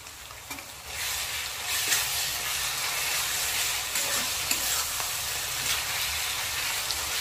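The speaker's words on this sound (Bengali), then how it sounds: "এবার এই আদা রসুন দিয়ে দেব।" Ginger-garlic paste hitting browned onions in a pan for a potato and chicken curry gives a steady, broad frying sizzle with occasional stirring scrapes, continuous and fairly close.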